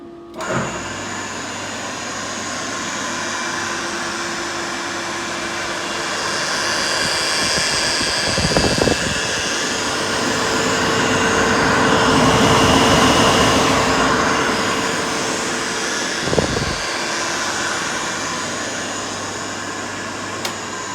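A 12-bar air compressor's motor hums steadily and continuously with audible bearing noise, swelling slightly in the middle, with a couple of brief louder thumps; no talking.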